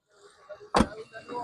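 A single solid thump as the front door of a 2009 Suzuki Cultus swings shut, close and sharp, with faint voices murmuring before and after.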